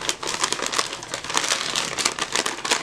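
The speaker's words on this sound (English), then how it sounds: "I just put a few pieces of our recycling paper in there until it's as full as you want it." Recycling paper crinkles and crumples as it is stuffed into a paper bag, a busy run of close, irregular rustling bursts with no voices.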